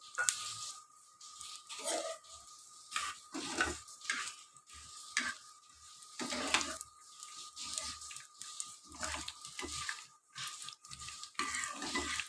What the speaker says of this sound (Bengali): ওই যে এর মধ্যে এই যে কালো সর্ষে আর মেথি রেখেছিলাম, ওইটাকে আমি ভেজে নেব